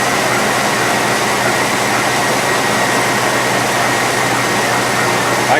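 A 2004 Chevy Avalanche engine idles with a dense, steady rumble and broadband mechanical noise, heard up close and alone, with a misfire present.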